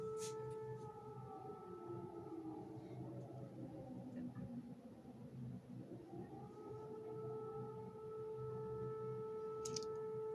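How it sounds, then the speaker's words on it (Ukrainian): An air raid siren wails steadily throughout, a sustained rising and falling tone heard during wartime in Ukraine, carrying loud and unbroken with no talk over it. "Це вже вкотре я записую відео під сирену."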